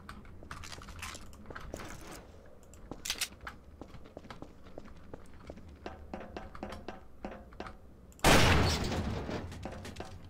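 A sudden loud explosive blast in a Garry's Mod Trouble in Terrorist Town round, set off by a barrel trap, bursting in near the end after a stretch of soft clicking and tapping game sounds.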